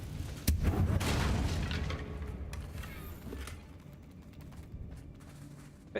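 A Confringo blasting spell explodes in the video game Hogwarts Legacy, one loud booming burst that rumbles and fades over a few seconds amid game ambience.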